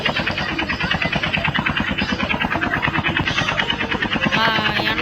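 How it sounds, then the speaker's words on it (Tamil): A helicopter in a video game thrums with fast, rhythmic rotor chops, close and steady for the whole stretch, with faint game effects layered on top. "என்னடா இது ஹெலிகாப்டர்லாம் இருக்கு."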